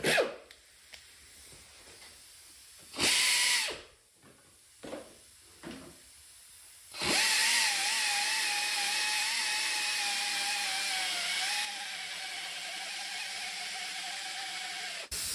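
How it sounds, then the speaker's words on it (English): A wire wheel on a grinder strips seam sealer from the floor pan of a 1963 VW Beetle. A short loud burst of abrasive whine comes first, then a long sustained run with a steady, slightly sagging pitch. No one speaks. "I just ground out the seam sealer. That's a front thug, you don't need that, just get a wire wheel."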